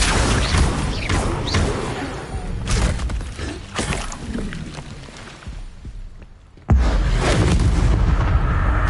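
An Incendio fire spell cast in a Harry Potter video game bursts out loud and crackling, with a sharp whooshing blast near the end over a continuous rumbling bed of game effects.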